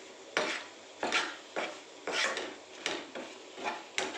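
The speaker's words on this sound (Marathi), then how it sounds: "आता त्यात आपण वेलची आणि बदाम टाकून घेऊ हे छान मिक्स करून घ्यायचं आहे" Besan mixture with cardamom and almonds being mixed in a pan for mohanthal barfi, heard as a series of about eight rhythmic rasping scrapes of a spoon against the pan, close and moderately quiet, no voices.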